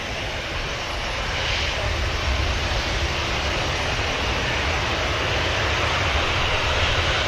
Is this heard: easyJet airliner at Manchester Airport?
yes